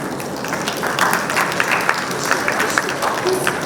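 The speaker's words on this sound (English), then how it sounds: "Let's welcome her with a round of applause." Audience applause welcoming a research executive onto a panel stage at a finance event, moderate clapping with some distinct individual claps and a faint murmur beneath.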